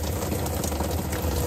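Shower water runs with a steady, close rushing hiss inside a 4x4 pop-up truck camper, loud and unbroken for a brief moment.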